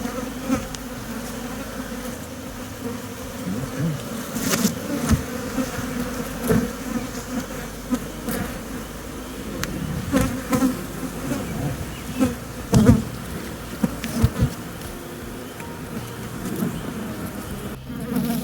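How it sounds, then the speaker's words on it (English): A dense, steady buzzing of many honeybees close by at an open hive being split, droning continuously with small swells in loudness and no voices. "I have my new queen in here. The other bees that are with her are called attendant bees"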